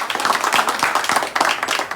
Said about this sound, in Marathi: आमच्यासाठी एकदा टाळ्या पण वाजवा